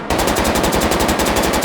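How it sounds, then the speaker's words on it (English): Rapid full-auto burst from a G22 machine pistol in the H3VR virtual-reality shooter, a steady stream of sharp, loud shots at an even fast rhythm, close up and alone. "Let's grab this and get even more stability for what would otherwise be a very uncontrollable machine pistol."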